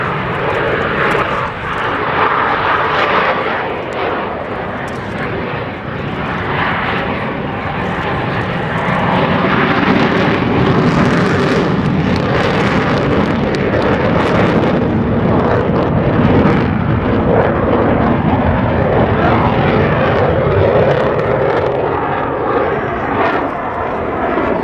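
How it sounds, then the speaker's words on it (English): US Navy Blue Angels F/A-18 jets make a high alpha pass at the 1997 MCAS El Toro air show, a loud sustained jet roar that swells and rumbles as the pair passes slowly overhead. "in order to demonstrate the additional climb and acceleration capability of the F-A-18. From the right, the section High Alpha Pass."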